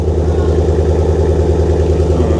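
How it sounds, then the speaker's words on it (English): A Chevy car with electrical problems sits idling, its engine a loud, close, steady low rumble with an even pulsing beat and no talk. "Start the engine real quick."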